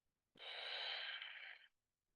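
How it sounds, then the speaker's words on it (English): A single long, steady Ujjayi pranayama breath drawn deep through a constricted throat, a soft hissing rush that is close and quiet, lasting over a second before stopping into silence. "For Ujjayi breathing,"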